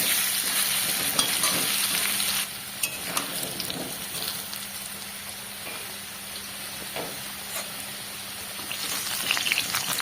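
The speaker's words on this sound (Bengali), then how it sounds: "আলুটাকেও বেশ লাল লাল করে ভেজে নেব" Potatoes fry with a pinch of turmeric in a pan of hot oil, giving a loud, continuous sizzle with occasional stirring scrapes and spatters close by.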